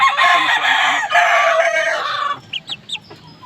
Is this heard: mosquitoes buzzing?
no